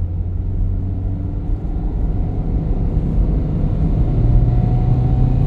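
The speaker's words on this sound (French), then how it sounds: "Puis le bruit du moteur." A Dacia Sandero Stepway engine rumbles low and steady, its pitch edging slightly upward toward the end, with no voices.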